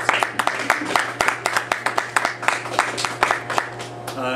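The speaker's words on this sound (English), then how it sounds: "So let's just give them a round of applause." Audience applause at the opening of an academic workshop, a steady patter of scattered claps from a modest crowd in a hall, fairly close and continuous for a few seconds with a low room hum beneath.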